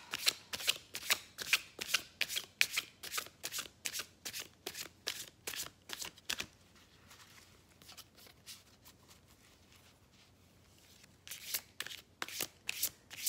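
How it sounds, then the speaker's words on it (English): Someone shuffles a new tarot card deck in rapid riffling bursts, each burst made of quick crisp snaps. A quiet pause falls in the middle before the shuffling starts again, close and clear with no talking. "Whenever I get a new deck, I shuffle it off camera a few times."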